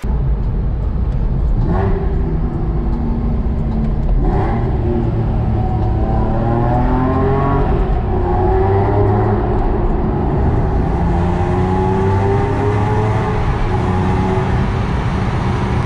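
A cold car engine revs up and down repeatedly nearby, short of full throttle, pitch rising with each press, loud and steady with no voices.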